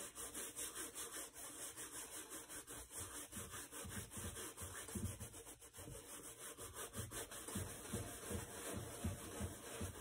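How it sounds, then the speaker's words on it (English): A soft bristle brush scrubs the soles of a shoe during a deep clean, giving quiet rhythmic back-and-forth rubbing strokes up close that grow slightly stronger toward the end. "Gonna work it in with the soft bristle brush first."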